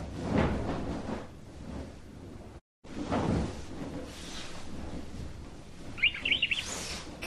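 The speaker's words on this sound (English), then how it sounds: "Canary." A canary lets out a quick burst of bright chirps near the end, briefly and at moderate level, after some soft knocking and handling noises.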